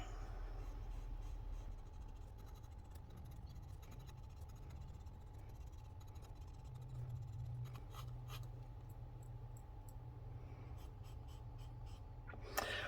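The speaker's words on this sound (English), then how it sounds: "So let's see how long it takes to start writing." A Baoer 801 fountain pen writing with orange ink: faint, steady scratching of the nib across paper, very quiet against a low constant hum, with a few soft taps near the end.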